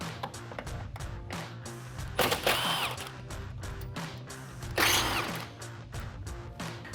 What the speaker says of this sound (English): let's unbolt our headlight. Now I'm working on our passenger side here. There's 2 10mm bolts up top we're gonna start with